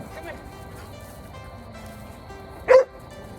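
A dog gives a single short, loud bark near the end, close by on a horse farm, after a stretch of low background noise.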